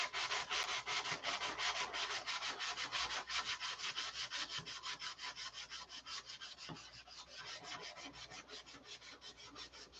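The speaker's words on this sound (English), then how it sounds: "We'll hit it with the sandpaper." Sandpaper rubbed back and forth over wood in rapid, regular rasping strokes, close and fairly quiet, continuing steadily for ten seconds with no talking.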